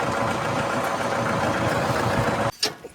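A tractor stuck in mud idles with a steady, close, throbbing engine rumble for about two and a half seconds before the sound abruptly drops away.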